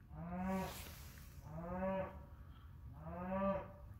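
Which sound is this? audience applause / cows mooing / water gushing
cows mooing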